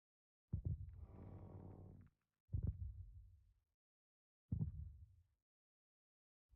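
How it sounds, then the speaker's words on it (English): Slow, deep, muffled heartbeat of the warden in modded hardcore Minecraft, three heavy throbbing pulses spaced about two seconds apart, each with a soft droning tail, alone against silence. "the warden's heartbeat is kicking up a notch"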